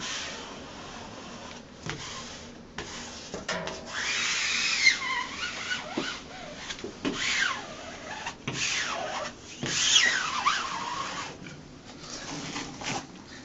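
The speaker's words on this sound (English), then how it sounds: "you just want to take your squeegee and go over it once more" A squeegee rubs and scrapes across a peel-and-stick wall mural being smoothed onto a wall, with repeated close strokes that swell and fade over several seconds, no talking.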